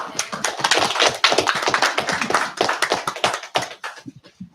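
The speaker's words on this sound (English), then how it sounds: "How about a round of applause?" A city council meeting audience gives a round of applause for Harold Sutherland's 103rd birthday, many hands clapping steadily and fairly loudly before tapering off to a few scattered claps.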